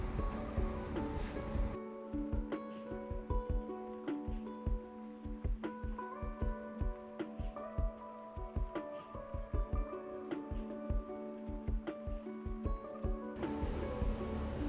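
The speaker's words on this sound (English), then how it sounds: "I'm just going to sew it all the way straight down." A sewing machine stitches straight down a folded half-inch hem on a skirt or trouser waistband, giving a rapid, even mechanical chatter of needle strokes that runs steadily for most of the stretch at low volume.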